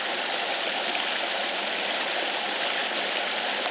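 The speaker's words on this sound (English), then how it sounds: "Definitely have some water sound, rushing water." Rushing rainwater streaming in a sheet across a driveway during a storm, a loud, continuous broadband roar of flowing water heard up close with no pauses.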